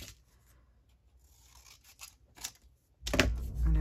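Scissors cut paper for a hinged journal made from a masterboard, with a few quiet snips followed by a louder cluster of cutting and handling sounds close by.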